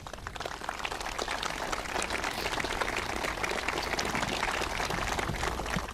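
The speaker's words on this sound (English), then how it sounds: "please be seated and join me in giving a round of applause for that outstanding military display" Large crowd at an Australia Day citizenship and flag raising ceremony giving sustained, dense applause after a military display, a continuous wash of many hands clapping at even loudness throughout.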